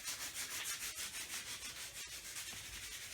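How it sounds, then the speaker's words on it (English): Sandpaper rubbed by hand over a Mazda Miata's car body to prep it for vinyl wrap, a steady rhythmic scratchy back-and-forth sanding, close and continuous with no talk. "we're taking sandpaper to my car right now"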